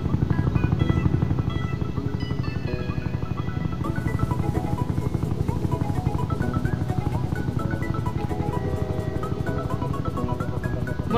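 In the Roblox Jailbreak game, a military helicopter's rotor and engine whir on steadily as it works its way up a ramp, with a busy musical-sounding layer running over the engine noise and no speech.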